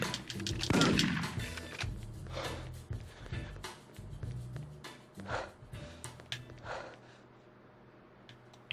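Gunfire in the video game The Getaway comes as a steady stream of loud, close shots and bursts over a busy, noisy game background, with shots scattered throughout.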